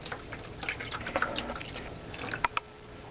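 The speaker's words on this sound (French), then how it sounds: "on met ça dans un plat Tupperware comme ça, 50 ml de développeur et 500 ml d'eau" Photo developer and water being poured into a Tupperware plastic dish, soft liquid trickles and small drips with a few sharper splashes near the end, close and fairly faint, with no talking.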